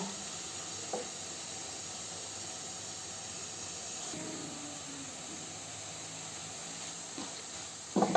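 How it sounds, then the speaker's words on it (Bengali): Boiled cabbage sits in a pan as the leftover water cooks off, giving a steady, faint hiss and sizzle with a few soft stirring scrapes near the end and no voices. "বাঁধাকপির জলটা শুকিয়ে নি শুকিয়ে গেছে এখন তুলে নেব"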